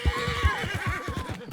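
A horse in the video game Red Dead Online lets out a loud, close whinny, a shrill wavering neigh with rapid pulsing flutter lasting over a second, with no voices.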